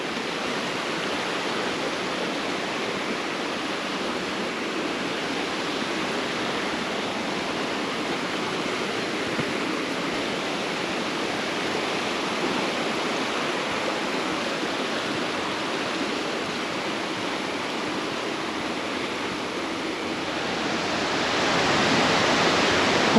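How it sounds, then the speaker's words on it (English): A small stream flows through a quiet Vosges mountain village, giving a steady, close, broadband rush of water that swells slightly louder toward the end, with no voices. "Never get sick of the sound of water, do you?"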